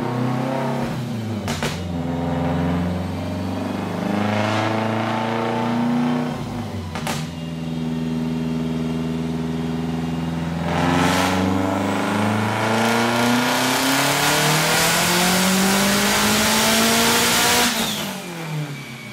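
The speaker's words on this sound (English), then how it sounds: "That last pull on E85 was 597 horsepower." Subaru Legacy GT wagon running on E85 during dyno pulls, its engine revving hard in repeated rising sweeps with brief cutoffs between them, loud and close, with no speech.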